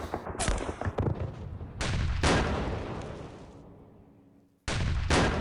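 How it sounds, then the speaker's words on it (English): Anti-tank rifle fire in a World War II Pacific battle video game, set on Kwajalein: heavy booming shots with long decaying tails, several in quick succession and one more after a lull. "Some sort of anti-tank rifle."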